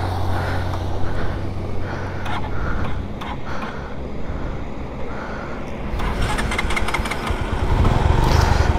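An 18-year-old Bajaj Pulsar 150 motorcycle engine running after starting, with a steady close rumble that grows louder and rougher toward the end. No talk.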